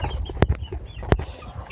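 Chickens and cocks on a poultry farm making soft, low clucks and murmurs at close range, with two sharp louder clucks or wing flaps standing out over the quiet background.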